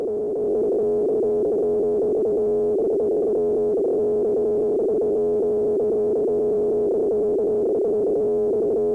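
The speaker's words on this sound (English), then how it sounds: "Now we're going to add in the sine wave oscillator, giving it some subtle frequency modulation for texture." A sustained sine wave oscillator tone from a Collide 4 synthesizer hums at a steady pitch with a slight wavering, warbling frequency modulation throughout, alone and fairly loud.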